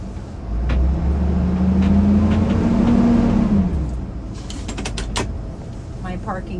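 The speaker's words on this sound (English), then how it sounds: "I'm going to rev my engine to 1500 RPM" A stationary bus's engine revs to 1500 RPM during a brake test, rising into a rough hum and then falling back. Brief clicks and clunks follow as the engine settles to idle.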